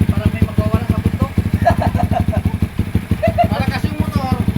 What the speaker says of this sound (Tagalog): Malakas yung motor.